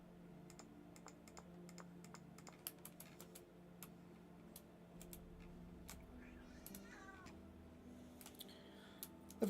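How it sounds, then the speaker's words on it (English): A pet cat lets out a couple of brief meows against a steady background of soft computer keyboard typing and scattered clicks. "No, don't you meow at me."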